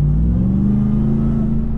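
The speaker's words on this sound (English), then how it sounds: "supercharged V8, a glorious supercharger whine" A supercharged V8 in a Ram TRX pickup rumbles loudly and steadily close by, a brief sustained engine roar with a faint rising tone.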